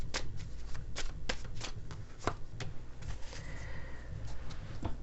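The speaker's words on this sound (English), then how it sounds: "I'm going to pull one more card here, kind of like I call it a clarifying card for the reading." Tarot cards are shuffled by hand in quick, crisp riffling bursts, close and fairly loud, with a few sharper snaps as cards are handled and drawn, and no voice.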